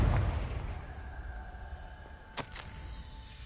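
A Confringo fire spell in Hogwarts Legacy lands as a muffled blast at the start, followed by a quieter sharp crack and ringing impact a couple of seconds later over faint game ambience.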